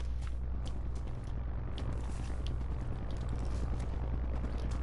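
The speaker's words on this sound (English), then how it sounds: "I hear a helicopter." Helicopter in the battle royale game Warzone: a steady, droning rotor rumble that holds at an even level throughout, with no voices over it.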